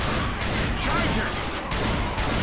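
Dense, continuous gunfire from a Left 4 Dead 2 firefight, loud and close, with repeated shots blending into a steady roar.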